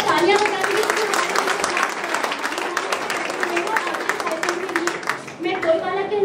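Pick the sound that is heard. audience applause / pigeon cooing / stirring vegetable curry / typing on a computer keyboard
audience applause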